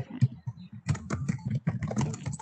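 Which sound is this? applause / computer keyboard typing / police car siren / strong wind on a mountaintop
computer keyboard typing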